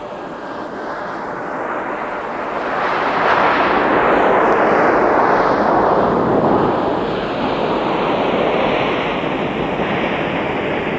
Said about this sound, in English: Oh yeah, how about that Gulfstream?